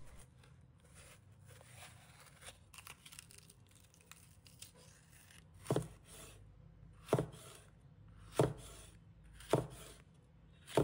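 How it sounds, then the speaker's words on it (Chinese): A knife cuts green pepper into small pieces on a cutting board, with quiet scraping and rustling first and then four evenly spaced, crisp chops near the end, no voices. "再准备适量的青椒，把它切成小块。"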